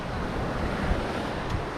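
Stormy sea waves pound the beach at Ordzhonikidze in Crimea, a dense, unbroken roar of surf mixed with gusting wind buffeting the microphone, with no voices.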